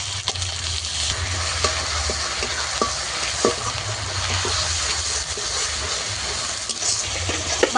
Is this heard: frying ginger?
yes